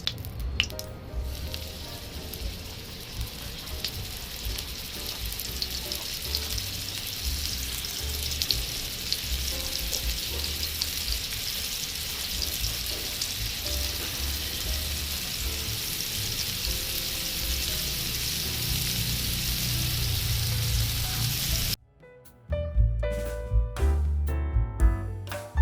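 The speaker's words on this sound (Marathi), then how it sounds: "तर चला आता आपण फिश फ्राय करून घेऊया।" Pieces of vam fish frying in oil on a charcoal stove, a steady close crackling sizzle that continues for over twenty seconds before a few clattering handling sounds at the end.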